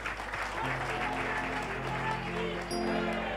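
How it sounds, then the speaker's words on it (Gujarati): Audience applause at a bhajan festival, a dense steady clatter of clapping hands that carries on for several seconds at moderate level, with sustained tonal music running underneath. "અહીંથી એકવાર એની માટે જોરદાર તાળીઓ પ્લીઝ."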